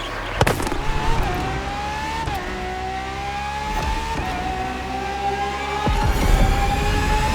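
Ferrari FXX-K racing car engine from The Crew Motorfest, droning loud and steady with rising revs and gear shifts, a few sharp bangs near the start and a louder, rougher surge toward the end.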